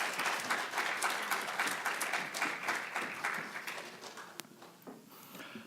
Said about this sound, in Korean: 우리 모든 분들이 다 같이 큰 응원의 박수로 모시기를 부탁합니다.